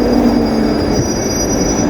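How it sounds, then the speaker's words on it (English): Northbound London Underground Northern Line train bound for High Barnet standing at a platform at Old Street, a steady loud rumble with a high wheel squeal running through, no talk. "This is the northbound platform, because that's a High Barnet train."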